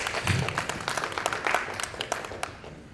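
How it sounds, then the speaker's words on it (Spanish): Audience at a Spanish-language legal conference gives a short, fairly faint round of applause, scattered claps over about three seconds. "con el maestro Germán Cardona Müller, un fuerte aplauso también para él, por favor."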